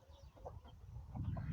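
Soft, low clucking from a young hen, a few short calls close by and faint. Quiet background murmur sits underneath.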